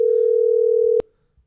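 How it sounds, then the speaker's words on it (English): A steady single-pitch telephone dialing tone during a call-in broadcast holds loud and unbroken for about a second, then cuts off abruptly, leaving near silence with a few faint low thumps. "So, calling Anne Marie back."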